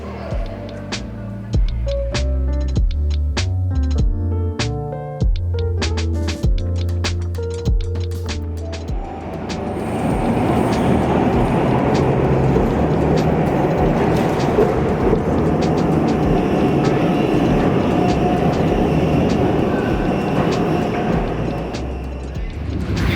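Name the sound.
tram riding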